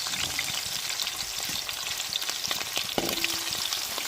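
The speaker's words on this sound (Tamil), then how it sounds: "நமக்கு வெங்காயம் பச்சை மிளகாலாம் நல்லா எண்ணெயிலே வதங்கி வரட்டும்" Onions and green chili sauté in hot oil with a continuous crackling sizzle, dense and close, plus scattered stirring clicks and one short clank near the end; no voices.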